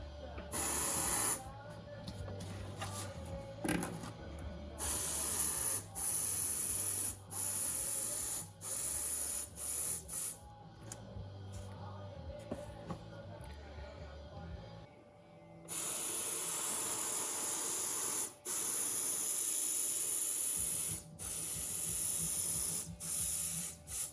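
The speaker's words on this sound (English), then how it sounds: "I'm using such a small spray gun" A small paint spray gun coating a 1984 Honda CBX750 motorcycle fuel tank, giving long continuous hissing passes broken by short pauses, close and steady, growing louder and denser toward the end.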